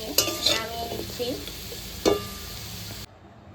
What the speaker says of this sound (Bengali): আলুগুলো ভাজা হয়ে গেছে, এবার আমি নামিয়ে নিচ্ছি।